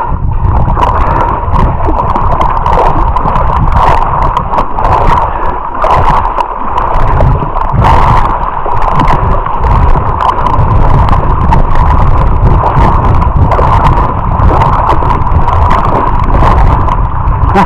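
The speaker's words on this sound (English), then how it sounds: "what I'm trying to get used to is this high cadence paddle stroke" Quick, rapid paddle strokes drive a foil board across flat water, with rhythmic splashes and sloshing under loud, steady wind buffeting.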